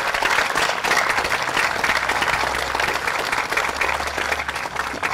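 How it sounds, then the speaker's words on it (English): A crowd at a Memorial Day parade ceremony gives a round of applause, a steady, dense patter of many hands that carries evenly throughout. "Let's give them a round of applause as well."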